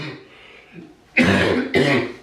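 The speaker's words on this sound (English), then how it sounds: "I still have a cough, even though I don't have COVID anymore" Two harsh, loud coughs from a person with a lingering cough after COVID, in quick succession near the end, after a brief quieter breath or throat sound.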